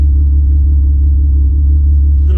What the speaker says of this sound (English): Got the R32 running. Haven't heard this thing in a minute, but she still be sounding so good.